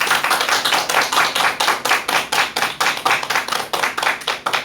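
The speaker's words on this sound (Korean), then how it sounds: "큰 박수 부탁드립니다." An audience at a lecture claps in a strong rhythmic unison, about eighteen sharp evenly spaced beats, loud and close with no talking.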